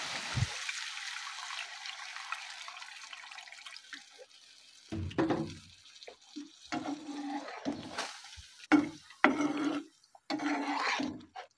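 Water is poured into a pan of simmering banana kofta curry, a steady close rush of liquid followed by bubbling, clinking and a few brief knocks of the pot.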